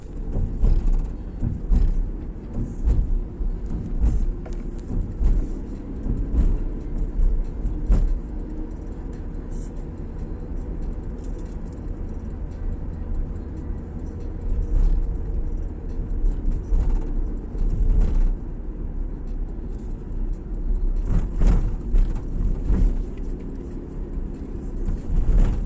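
Road traffic rolls past in a long queue, with cars passing close and fading in repeated swells over a constant low rumble, occasional voices and faint birds in the mix.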